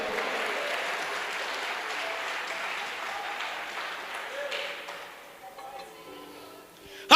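A church congregation breaks into sustained applause during a Portuguese-language sermon, a dense crackle of many hands that holds steady and then thins and fades toward the end.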